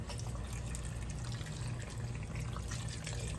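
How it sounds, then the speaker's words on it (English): Beef broth pours steadily into a stew pot, a soft continuous liquid splash heard close and fairly quiet with no talking. "Now we're gonna go ahead and add the cup of beef broth."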